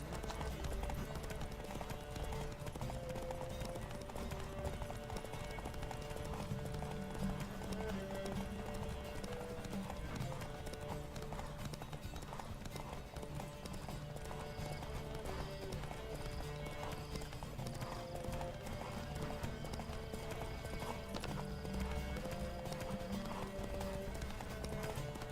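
A horse gallops on and on in The Witcher 3 video game, its hooves clip-clopping in a fast, even rhythm over continuous background music.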